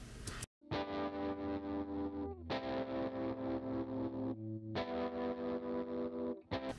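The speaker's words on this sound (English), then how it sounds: "it sounds like this without it" Dry, distorted electric guitar chords strummed in a steady rhythm, with sustained chord changes and no audible echo tail, loud and close.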